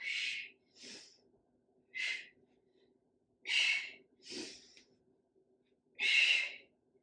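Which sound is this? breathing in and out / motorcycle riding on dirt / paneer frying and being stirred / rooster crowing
breathing in and out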